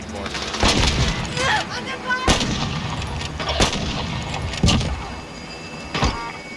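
Sharp sniper rifle shots from Call of Duty Modern Warfare Plunder, sounding as several loud cracks spaced a second or so apart over continuous game ambience and effects.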